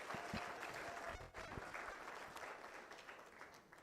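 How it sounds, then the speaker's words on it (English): Applause from a conference audience at a men's gathering on ending violence against women, a dense steady wash of clapping that stays fairly even, then tapers slightly toward the end. "Let's give her another round of applause."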